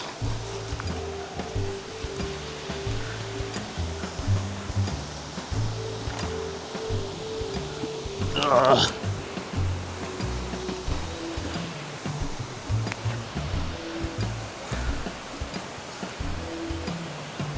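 The Dhuppani waterfall in Rangamati roars as a broad, continuous rush of falling water, steady and fairly loud throughout, with a brief louder splash midway and faint tonal hum beneath.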